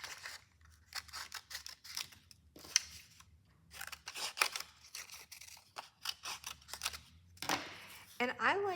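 Scissors snipping through strips of paper for a paper pumpkin craft, a series of short crisp cuts in quick bursts with pauses between, close and fairly quiet, with a voice talking at times.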